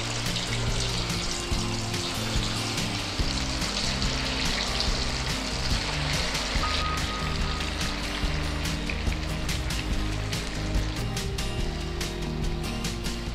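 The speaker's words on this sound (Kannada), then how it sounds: "ಬ್ರೌನ್ ಕಲರ್ ಬರೋವರೆಗೆ ಫ್ರೈ ಮಾಡಬೇಕು ಆಮೇಲೆ ಸ್ಟಾಪ್ ಅಲ್ವಾ ಫ್ರೈ ಆಗ್ತಾ ಇದೆ" Methi kebabs deep fry in hot oil, a steady, loud, dense crackling sizzle that runs unbroken throughout with no pauses.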